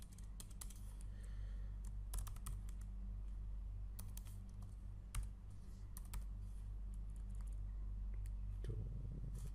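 Code being typed on a computer keyboard, a quick irregular patter of close key clicks with a few louder taps, over a low steady hum.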